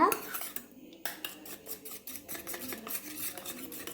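A utensil whisking beaten egg mixture with turmeric in a bowl for an omelette: quick rhythmic clinks and scrapes, close and fairly quiet, with a brief pause near the start.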